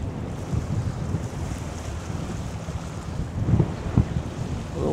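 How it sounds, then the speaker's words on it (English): Wind buffets the microphone in low rumbling gusts over a steady outdoor roar by the sea at Possession Point, swelling louder toward the end. "A little windy."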